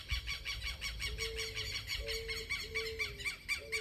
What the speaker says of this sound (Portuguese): Aí, outro passarinho ali.